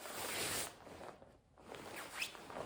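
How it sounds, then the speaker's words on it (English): Zipping up a Montec Fawk shell jacket: a drawn-out zipper rasp over about two seconds, pausing briefly midway before a final pull, close and fairly quiet. "let me zip it all the way up"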